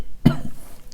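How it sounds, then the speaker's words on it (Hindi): A single short, sharp cough from a man, close to the microphone, followed by quiet room tone. "खांसी"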